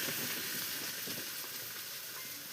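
Onions frying in a pan over a wood fire, a steady broadband sizzle that stays loud and even throughout with faint scraping underneath.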